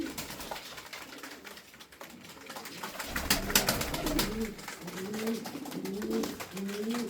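Pigeons cooing nearby in low repeated rolling phrases, with some rustling and handling noise earlier on.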